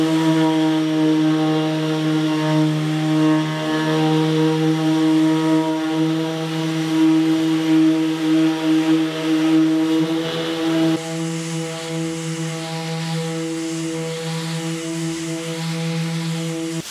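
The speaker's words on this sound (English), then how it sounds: "So it's time to sand now. I need to sand all of that smooth and flat." Power sander working a cured epoxy fibreglass patch on a cedar strip canoe hull, a loud steady motor whine with a strong tonal hum that shifts pitch slightly partway through, continuous and close, no talk.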